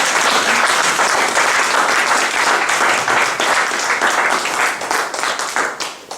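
A church congregation breaks into loud, dense applause, many hands clapping together in a sustained roar that fades toward the end.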